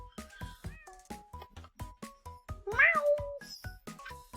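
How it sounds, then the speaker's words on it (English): A cat meows loudly, a single drawn-out wailing call rising over a steady rhythmic musical beat that thumps throughout. "I didn't know there was a cat in this."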